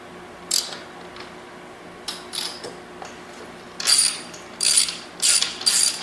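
A ratchet wrench loosens a 19 mm bolt on a Rawrr Mantis X Pro electric motorbike, giving five or six short bursts of sharp, close clicking separated by quiet pauses, with no talking.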